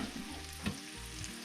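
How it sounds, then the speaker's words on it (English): Onions and a minced garlic clove frying in a skillet, a steady close sizzle and crackle with a brief stir-scrape around the middle, no voices. "onions and 1 clove of minced garlic into the skillet"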